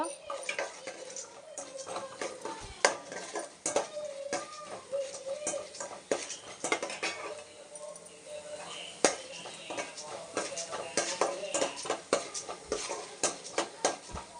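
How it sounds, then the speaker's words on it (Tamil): Chana dal and urad dal roast dry in a pan for a coconut-free spicy chutney, a spoon scraping and clinking repeatedly in an irregular rhythm, close and moderate, with a dog whimpering and barking faintly and a voice talking at times. "நம்ம எடுத்து வச்சுருக்க கடலைப்பருப்பு உளுத்தம்பருப்பும் போட்டலாங்க. பருப்பு நல்லா சவரட்டுங்க."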